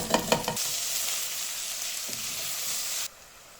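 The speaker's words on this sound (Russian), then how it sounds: "Все вместе обжариваем." Onion and garlic sizzle and fry in a pan, a steady close hiss with brief stirring scrapes at the start, cutting off sharply near the end.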